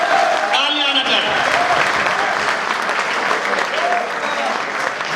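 An audience at a patriotic poetry recital breaks into sustained applause, dense and loud throughout, with a few voices rising briefly over the clapping.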